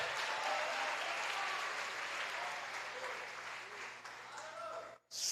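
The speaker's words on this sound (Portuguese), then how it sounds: "Aplauda Jesus de Nazaré." Applause from a church congregation fills a Portuguese-language worship service, a steady broad wash of clapping that holds for about five seconds before dropping off abruptly near the end.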